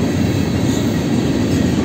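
A KCSM freight train hauled by a pair of GE GEVO locomotives (4758 and 4714), including a Cemex boxcar, rolls past close by as a loud, steady rumbling roar of wheels and cars with no talking.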